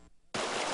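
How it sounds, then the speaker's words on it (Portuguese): A small waterfall of water running down a street past houses on Rua São Sebastião in Buenópolis, a sudden steady rushing roar that cuts in after a brief quiet moment and stays loud and even. "Parece cachoeira, mas é só uma das muitas quedas d'água que passam em frente às casas dos moradores na rua São Sebastião"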